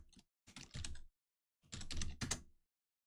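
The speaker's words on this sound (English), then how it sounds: "we can just type in toCSV" Two quick bursts of typing on a computer keyboard, close and crisp clatters separated by silence while code is entered, no voices.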